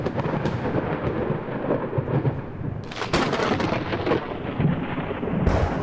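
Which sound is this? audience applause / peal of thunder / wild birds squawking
peal of thunder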